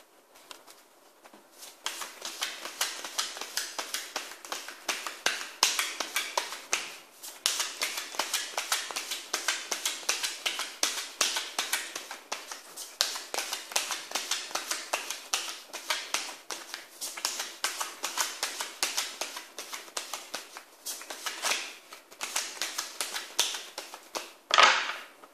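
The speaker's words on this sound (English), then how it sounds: "I'm going to be reshuffling the tarot cards now" Tarot cards are shuffled continuously for most of the stretch, a dense, papery riffling and flicking with a few brief pauses, close and fairly loud, with no voice.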